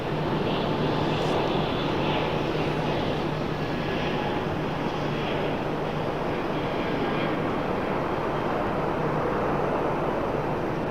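A fixed-wing airplane rumbles steadily on approach to landing on runway 5 right at Raleigh-Durham airport, a broad continuous engine roar heard from a distance without any voices.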